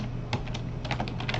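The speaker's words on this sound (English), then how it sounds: "I'll just type something simple" Quick light keystrokes patter on a computer keyboard, close and clear, in a short, uneven run with no talking.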